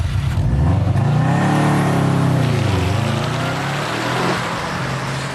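A Subaru Impreza WRX STI drives on a wet racetrack, its engine loud and near, revving up and down in smooth sweeps before easing off toward the end.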